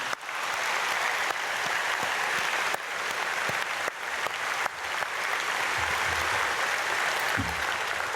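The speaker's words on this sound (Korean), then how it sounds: "우리 특별히 중고등부 학생들을 위해서 박수 많이 쳐주시길 바랍니다" A church congregation at an early-morning prayer service claps for its middle and high school students, sustained broadband clapping over several seconds with a few brief dips and some low rumble near the end.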